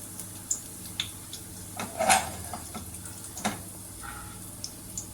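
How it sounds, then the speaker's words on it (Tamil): Fennel seeds splutter in ghee in a pan as sparse crackles and sharp pops over a quiet background, with one louder cluster of pops in the middle and a few scattered ticks around it. "இப்போ சோம்பு பொரியுது"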